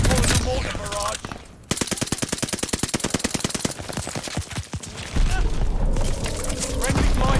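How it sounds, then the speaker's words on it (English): Call of Duty Vanguard multiplayer battle with a mortar barrage: dense rapid machine-gun bursts in a fast even rattle, heavy booming blasts before and after, loud and close. "Allies pulling the mortar barrage."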